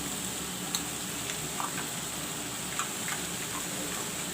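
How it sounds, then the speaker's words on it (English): Roasted masala paste with ginger and garlic fries in a pan for a soybean curry, a steady close sizzle with scattered small pops and ticks throughout, no talking. "I am frying the masala a little bit, not much because it's roasted up."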